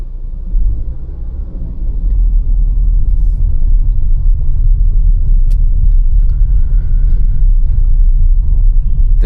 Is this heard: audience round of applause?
no